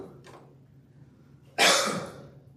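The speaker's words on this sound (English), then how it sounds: "I can't seem to clear my throat." A man with a tickle in his throat gives a brief, soft cough and then a louder, harsh throat-clearing cough, close to the microphone in a quiet room.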